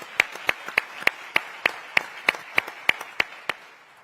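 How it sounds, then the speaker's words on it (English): Audience at the 2022 HOPE Global Forums clapping in a steady, evenly spaced rhythm of sharp claps, about three per second, with no voices over it. "We also want to give an applause for all the people that they are empowering to go forward"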